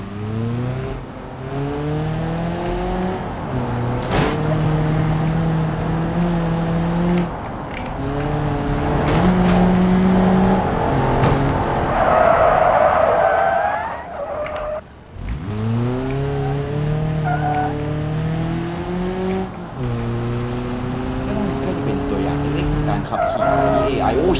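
A car in BeamNG.drive speeds away while AI cars chase it, its engine revving through rising and falling gear shifts with brief skids, loud and steady, under a talking voice.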